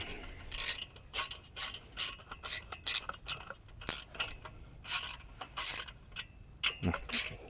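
A ratchet tightens a 13 mm bolt on a plug-and-play solar panel mounting bracket, with about a dozen close, crisp bursts of clicking in a regular back-and-forth rhythm, separated by short pauses.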